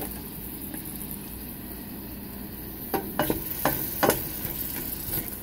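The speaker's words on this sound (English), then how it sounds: "So right now the pot is hot. I'm gonna put the onion in there." Chopped onion hitting a hot pot and starting to fry: a steady low sizzle, with a short cluster of sharper crackles and clatters midway before it settles back to an even hiss.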